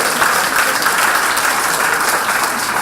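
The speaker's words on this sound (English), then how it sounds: "A round of applause," Brief, loud burst of audience applause at a talk on cloud appreciation, steady dense clapping from a near crowd after someone correctly names a cumulus cloud.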